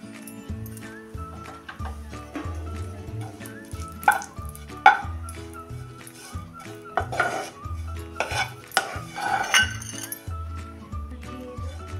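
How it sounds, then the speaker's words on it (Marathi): Grated coconut sautéed in ghee in a kadhai, with a metal spatula repeatedly scraping and clinking against the pan in an uneven rhythm, close by, over steady background music. "किसलेलं खोबरं परतून घेऊया"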